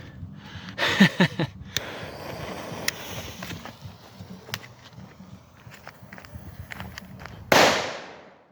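A sharp, loud bang from a homemade flash powder firecracker near the end, preceded by faint outdoor noise, footsteps and scattered clicks.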